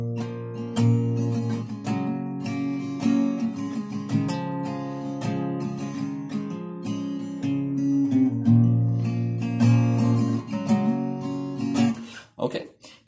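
An acoustic guitar with a capo plays the intro of a song: clear, close plucked and picked notes in a rhythmic pattern, ringing and repeating steadily before the playing stops near the end.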